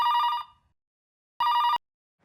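A telephone bell rings in two short electronic bursts separated by a pause of about a second, loud and close, with no voices.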